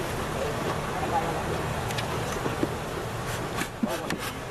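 Bees hum around an open backyard beehive, a soft continuous buzz running beneath people talking nearby, with a few brief knocks and clicks.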